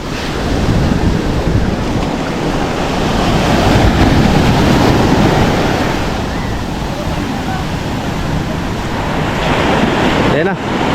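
Strong ocean waves crashing and surging around a boat, a loud continuous roar of surf and wind buffeting the microphone, with voices faintly underneath.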